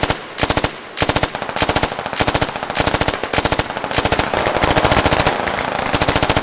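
Suppressing machine-gun fire in the shooter game Squad: loud, close bursts of rapid automatic shots, each several rounds long, repeating in quick succession with almost no pause, running into sustained fire toward the end.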